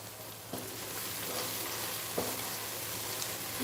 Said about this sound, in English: you have to saute all these ingredients, especially tomato, onion and garlic together